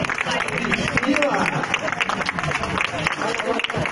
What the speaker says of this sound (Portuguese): Palmas para as modelos e os modelos que arrebentaram aqui